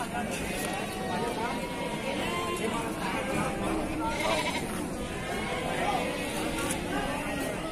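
Goats bleat at a busy livestock market on a cold, rainy day, several short nasal cries rising over a dense crowd murmur, with people talking nearby throughout.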